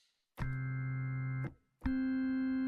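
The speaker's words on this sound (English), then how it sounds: "That is just the tone of the organ." Two sustained Hammond organ notes with chorus off sound one after another, clean and steady with a smooth, pure tone, separated by a brief gap of silence.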